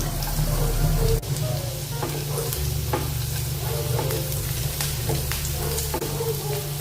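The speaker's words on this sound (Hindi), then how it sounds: "थोड़ा सा इसको भून लेंगे लहसुन को।" Steady sizzling of garlic and chillies frying in hot oil, with occasional scraping and stirring clicks, close and constant.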